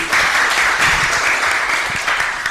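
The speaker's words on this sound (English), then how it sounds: "please give applause again for Prof. Aljupri" An audience claps steadily for a couple of seconds, a broad, even patter of many hands at moderate loudness with no voices over it.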